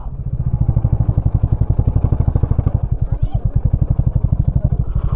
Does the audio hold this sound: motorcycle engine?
yes